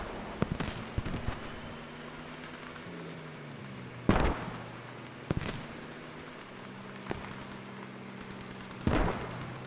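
Mortar explosions in the Post Scriptum game: several sharp blasts at uneven intervals, the loudest near the middle and end, with a low steady vehicle-like rumble running underneath.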